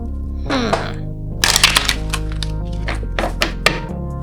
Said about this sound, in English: That was a loud shuffle